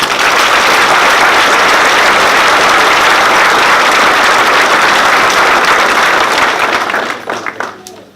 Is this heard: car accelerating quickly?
no